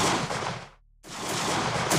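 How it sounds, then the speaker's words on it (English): Gunshots ring out through reeds during a fairy tale hunting scene, a loud dense burst of gunfire with a brief gap of silence before the shots resume. "Gunshots still rang through the reeds, one bullet after another."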